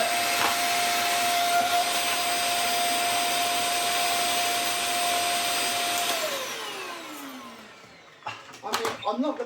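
A Klarpul KL-001 vacuum cleaner runs with a steady high whine, then winds down as its pitch drops, followed by a few clunks and bumps.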